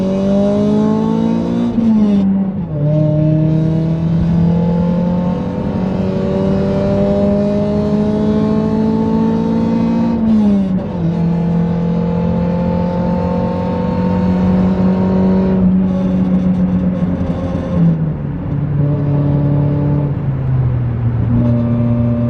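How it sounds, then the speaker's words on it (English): A project car's engine with a damaged, raspy rally-like exhaust revs loudly and close under light throttle, a sustained droning roar that climbs and dips in pitch several times over twenty seconds, with no talk. "it honestly, like, just kind of sounds like a rally car"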